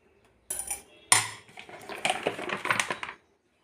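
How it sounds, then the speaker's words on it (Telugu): A metal kadai is set down on a stove with a sharp clank. A short burst of clattering and scraping metal-on-metal knocks follows, close and fairly loud. "ఇట్లా ఇప్పుడు కళాయి పెట్టుకోవాలి."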